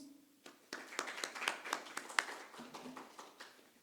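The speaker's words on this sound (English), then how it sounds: "Please give her a round of applause." Audience applause at a literature festival round table: scattered claps build into brisk clapping from a modest crowd, then thin out, with a faint voice at the start and end.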